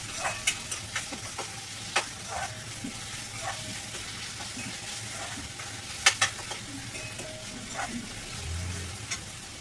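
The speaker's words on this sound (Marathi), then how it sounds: "कांदा व्यवस्थित परतून घ्यायचा, थोडा अजून लाल होऊन द्यायचा. नंतर त्याच्यात टोमॅटो टाकायचे." Onion and tomato sauté in a pan, giving a steady soft sizzle with scattered clicks and taps of stirring throughout, close and moderately quiet, with no talk over it.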